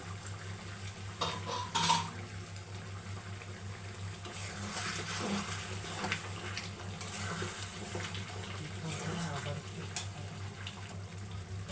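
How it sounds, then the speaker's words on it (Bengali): A pot lid lifts and a spoon stirs Rita fish curry, with soft metallic clinks and scraping in a kitchen over steady background hum, one louder clatter near the start. "একটু ঢাকনাটা উঠিয়ে নেড়ে চেড়ে দিচ্ছি"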